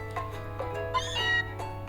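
A cat Pokémon in Pokémon Sun gives a single short synthesized meow, alone over a steady low game hum.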